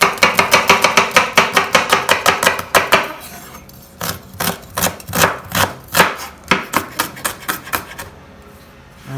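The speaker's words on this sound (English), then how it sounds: "First off, we got to chop the onions and the tomatoes." Knife chopping onions and tomatoes on a board, a fast run of sharp, even thwacks that pauses briefly, then resumes as slower, separate cuts, loud and close with no talking.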